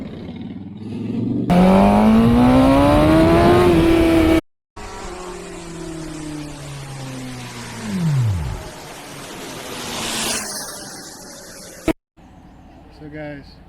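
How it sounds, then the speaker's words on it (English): A Suzuki GSX-R600 sport motorcycle engine revs hard to high RPM with a rough, misfiring note, loud and close, the pitch climbing then dropping away in bursts with brief cut-outs. "my bike is experiencing an issue right now. I believe it has something to do with misfire. Really high RPMs."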